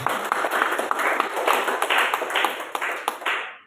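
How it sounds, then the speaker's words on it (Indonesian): An Indonesian church congregation claps and applauds for Jesus during a sermon, a busy, close patter of many hands with distinct sharp claps popping out, fairly loud and fading away abruptly at the end. "Beri tepuk tangan bagi Tuhan Yesus"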